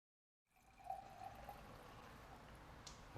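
Red wine pouring from a decanted bottle into a glass, a steady trickling stream running about three seconds after a brief silence, close and fairly quiet.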